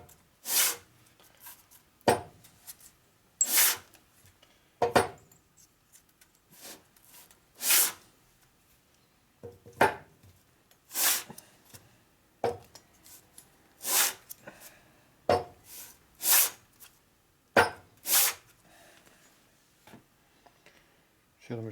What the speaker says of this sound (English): If you keep sanding on it, it'll eventually go down and get rid of all the marks.